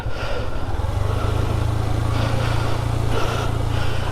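A motorcycle rides along the hilly Tindu road, its engine droning steadily and loudly up close with a constant low buzz and occasional rises in pitch, no voices.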